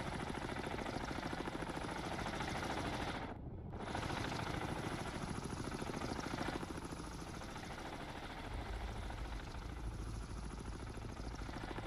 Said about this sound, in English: Wish you could shoot those helicopters down.